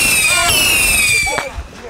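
Small consumer fireworks going off at a Fourth of July celebration on a residential street, with sharp pops and sustained whistling crackle, loud and close, while people shout and talk over the noise.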